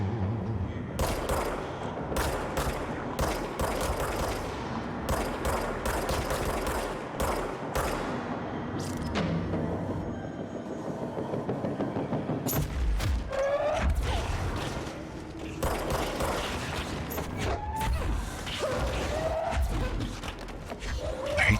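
Sentry guns fire bursts of gunfire during a Control video game fight, with dense, loud, continuous shots and rapid volleys mixed with game effects and no talking.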